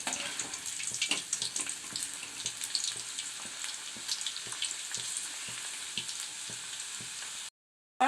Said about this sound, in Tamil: இப்போ எண்ணெய் காஞ்சிருச்சு. நம்ம மசாலா கலந்த வெண்டைக்காவை இதில் சேர்த்துக்கலாம்.